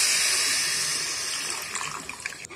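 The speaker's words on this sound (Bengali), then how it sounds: "এখন দুধ ঢেলে দেব।" Milk is poured into a pot of softened grated carrot for halwa, a steady close splashing gush that thins out toward the end.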